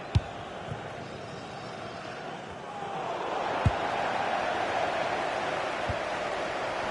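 A stadium crowd in the football game FC 26, during an Aston Villa versus Chelsea Premier League match, makes a steady broad roar that swells louder midway, with a few faint thuds on top.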